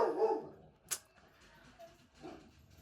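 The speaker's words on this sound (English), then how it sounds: "Now my dog is barking." A dog barks indoors, a few sharp yips and barks at moderate distance spread across a few seconds, with quiet background.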